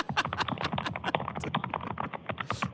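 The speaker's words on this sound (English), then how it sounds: "Bro got the mic next to the keyboard." Rapid keystrokes on a computer keyboard sit close to the microphone during a livestream, clacking in a dense, uneven run throughout with faint speech mixed underneath.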